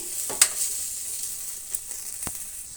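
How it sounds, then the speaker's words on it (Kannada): Tomatoes and tamarind fry in a pan with a steady high sizzle, broken by a few brief stirring taps and scrapes, close and alone without voices. "ಹುಣಸೆಹಣ್ಣು ಸ್ವಲ್ಪ ಮೆತ್ತಗಾಗಲಿ ಅಂತ ನಾನು ಫ್ರೈ ಮಾಡ್ತಾಯಿದ್ದೀನಿ"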